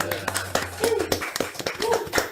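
An audience on a podcast set claps for wayang hip hop guests, a few hands beating in quick, close, uneven claps while voices keep talking over them.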